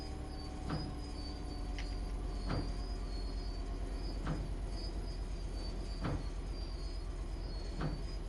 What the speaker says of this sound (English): Oh, those window wipers are loud.